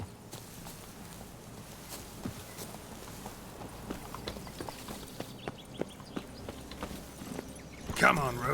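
Roach the horse from The Witcher 3 walks along, hooves clip-clopping in a steady, soft rhythm under quiet game ambience, with a brief louder burst near the end.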